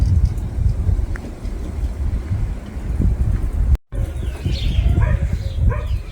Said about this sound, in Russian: поднялся ветер